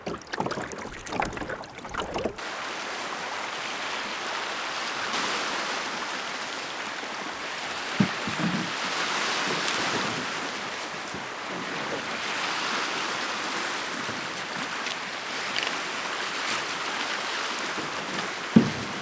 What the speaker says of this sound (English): I'm rowing far out into the archipelago.